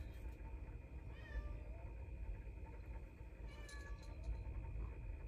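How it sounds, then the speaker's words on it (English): A house cat meows at a door, a few soft, faint calls rising over a steady low background hum. "My cat is meowing at my door."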